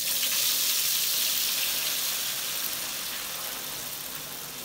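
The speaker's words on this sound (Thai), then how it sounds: "นำไข่ของเราลงไปทอดเลยครับ" Beaten egg poured into smoking-hot oil for a crispy Thai omelette, giving a loud, dense, steady sizzle that slowly eases off, with no talking.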